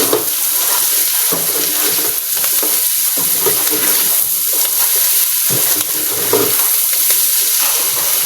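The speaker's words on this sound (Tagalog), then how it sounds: "dapat ko na haluin" Bitter gourd and egg stirred in a frying pan, a loud continuous sizzle with repeated scraping strokes of the spatula in an uneven rhythm, close up with no talking.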